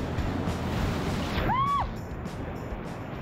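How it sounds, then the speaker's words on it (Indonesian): Strong southern-sea waves crash against coral rocks on the Central Java coast in a loud, continuous broadband roar, with a brief whistling tone rising near the middle. "ketika ombak laut selatan datang menghantam dengan kuat"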